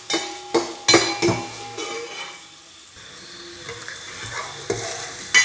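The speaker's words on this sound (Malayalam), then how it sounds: "നന്നായിട്ട് ഇളക്കി ഒന്ന് മിക്സ് ചെയ്യാം." Onions frying in a pan while being stirred, with sharp utensil scrapes and clinks against the pan at the start and end, a soft sizzle underneath and no talking.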